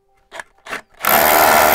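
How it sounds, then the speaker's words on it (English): Power drill bores into a concrete wall in a quick pulse to mark a fence post position, starting after two short taps and running as a loud, close, steady whine to the end. "All we're going to do is get the drill in"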